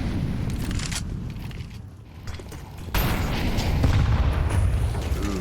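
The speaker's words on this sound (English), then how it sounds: "classic nade dunk takes a lot of damage onto Zach" A thrown grenade detonates in a Counter-Strike match, a sudden loud blast that cuts in midway and leaves a sustained rumbling roar afterward amid background game noise.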